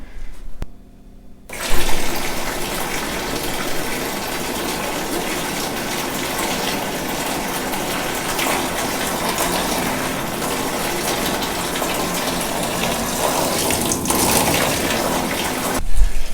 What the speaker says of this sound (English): I think it's already pumped once and some ice come out of the pipe with it